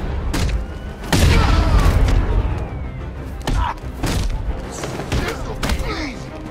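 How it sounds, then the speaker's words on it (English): Gunfire in a video game: a run of sharp, loud shots and booming impacts in irregular bursts, with heavy low thumps and a few isolated cracks spaced apart, close and dominant throughout. "We need to use guns!"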